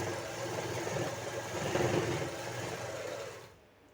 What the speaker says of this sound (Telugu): చూడండి ఇలా చిన్నగా మిషన్ ఆపుకుంటూ చీర ఇలా సరి చేసుకుంటూ